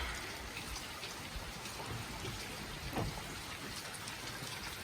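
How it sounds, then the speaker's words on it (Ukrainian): Steady rain patters on the roof of a van, a dense even hiss with occasional louder drops. "Бог дав нам дощик у бусі."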